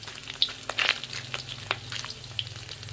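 Pork and pork kidney for a spicy holy-basil stir-fry sizzle in a little hot oil in a pan, a steady close crackle broken by sharp clicks and scrapes of stirring.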